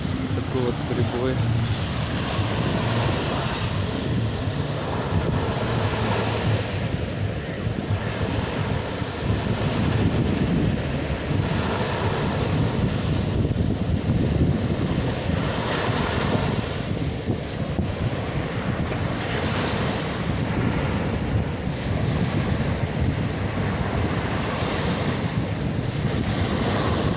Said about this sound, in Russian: Такой вот прибой.